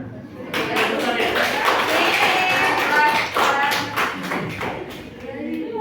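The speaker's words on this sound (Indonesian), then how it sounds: "kita beri tepuk tangan untuk Cipaul saja, Mela, Marin." Students in a classroom during a practice teaching lesson clap for classmates with a loose patter of sharp hand claps, heard close and mixed with talking voices throughout.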